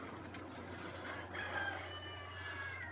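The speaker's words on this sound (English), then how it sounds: "Roosters are crowing." Roosters crow far off outdoors, faint and drawn out over a low, steady background hum.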